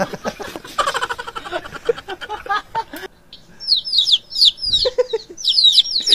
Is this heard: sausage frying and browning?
no